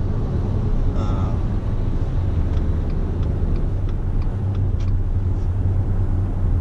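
Steady low engine rumble and road noise from inside a 2019 Subaru Ascent accelerating on the road, a constant drone filling the cabin with faint higher ticks over it.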